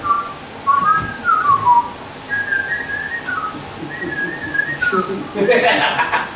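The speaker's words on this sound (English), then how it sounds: "If we get copyrighted for whistling" Someone whistles a wandering tune in short melodic phrases, with faint background noise and a brief rustle near the end.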